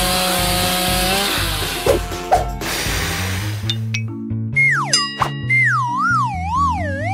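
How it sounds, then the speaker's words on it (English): A chainsaw cutting into a burger in a comedy kitchen challenge, its buzzing engine revving loudly up close for a few seconds before cartoonish boing and sliding-whistle effects take over. "What could I use? Exactly, a chainsaw."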